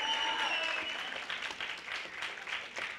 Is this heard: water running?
no